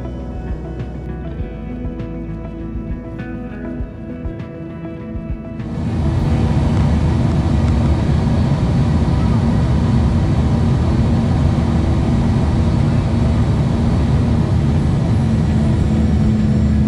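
A JSX private jet descending over Northern California toward the Bay Area, its steady cabin engine and airflow roar rising abruptly a few seconds in and then holding loud and constant.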